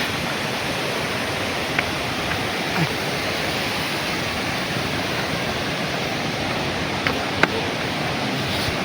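Waterfall in Andhra Pradesh pouring as a steady, loud, unbroken roar of rushing water, with a few faint clicks and knocks near the end and no one talking.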